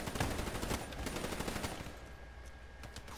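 Rapid gunfire from Black Ops 3 gameplay on Nightmare Mode, a burst of quick shots in the first half that fades to near quiet, ending on a sudden loud hit.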